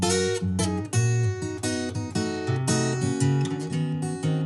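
Solo acoustic guitar, recorded with EQ applied, playing a fingerpicked passage of clear, separated notes and chords, bright and clean, with no voices.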